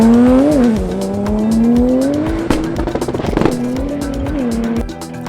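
A Porsche 911, the rear-engined sports car, driving hard with a sustained engine note that rises and shifts pitch, tires squealing and a rapid rattling burst midway, loud and close.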